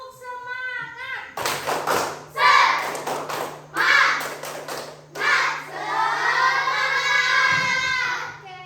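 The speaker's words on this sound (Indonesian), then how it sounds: "Sekali lagi, tepuk semangat." A classroom of children doing a rhythmic spirit clap, several quick bursts of unison clapping with shouts, close and loud, with a steady hum underneath and voices chanting along.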